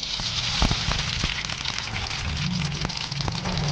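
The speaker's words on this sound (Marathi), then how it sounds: "तेल छान आपलं तापलेलं आहे। त्याच्यामध्ये 1 चम्मच मोहरी" A spoonful of mustard seeds sputters in hot oil, giving a dense, continuous crackle with scattered sharp pops, close and fairly loud throughout.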